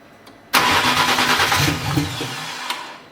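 A drift car's engine managed by a Primus ECU cranks on its starter and catches, a sudden loud start that settles into a rough idle with small revs, close up and with no talking.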